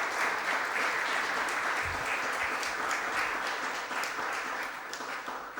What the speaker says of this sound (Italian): Possiamo fare anche un applauso